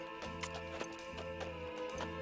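A horse moves at an even pace, its hooves clip-clopping in a regular rhythm beneath sustained tonal music, with no voices.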